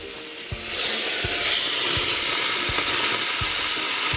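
Tomato goes into a hot pan of onion, and a sudden loud sizzle swells up and holds as a steady frying hiss, broken by faint clicks of stirring.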